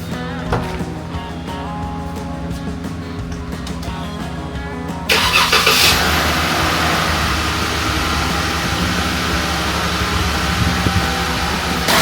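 A Jeep Wrangler JK engine cranks and catches about five seconds in, then settles into a steady, loud idle with a broad whirring hum, no voices present.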